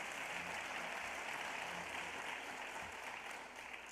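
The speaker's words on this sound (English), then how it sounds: "Let's give her a big round of applause." An audience at a teacher of the year celebration applauds continuously, a faint and steady wash of clapping heard from a distance.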